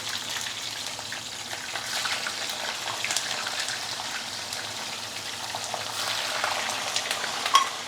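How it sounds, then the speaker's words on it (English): White pomfret sizzles in oil heated past smoking point, around 180°C, a steady, even crackle holding near and moderately loud throughout with a few brighter pops toward the end. "So fry the first side for at least about 2 minutes before you flip it over."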